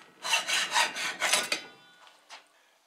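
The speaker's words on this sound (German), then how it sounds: "Hier sägen wir es mal ab." Hand saw cutting through wooden tabs on a corner bench seat: five or six rhythmic rasping strokes close by, then a few faint final scrapes as the cut finishes.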